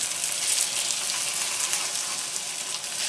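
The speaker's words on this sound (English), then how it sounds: "parathas are well fried from both sides" Chicken qeema parathas fry in a pan over a medium-high flame, giving a steady, close, bright sizzle that hisses evenly throughout with no talking.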